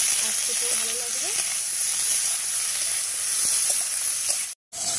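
Brinjal fries in hot oil with a steady loud sizzling hiss that runs continuously, a brief voice heard early and a sudden cut near the end.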